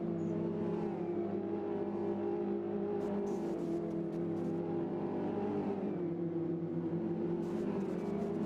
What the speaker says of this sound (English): Ryan Dignan comes in the 84 car, the RSR racing machine coming through